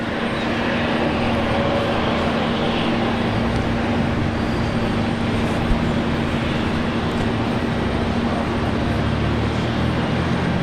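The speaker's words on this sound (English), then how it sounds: "Yeah, flight 23 off to Osaka." A jet airliner departs Brisbane Airport bound for Osaka, producing a loud, continuous engine roar that stays steady and unbroken, with no voices.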